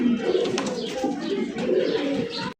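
Large black Danish pigeons coo in a steady, close chorus of overlapping throaty calls that carries on without pause.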